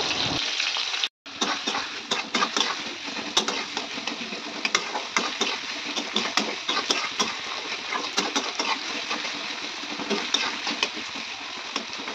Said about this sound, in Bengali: সাথে একটু পেঁয়াজ দিয়ে দেব, আর পেঁয়াজটা একটু ভালোভাবে ভেজে নেব